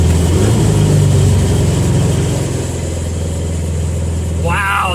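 A 1974 Chevy Vega engine, newly fitted with a completed fuel system, idles with a steady, loud low rumble throughout, with a brief higher sound near the end.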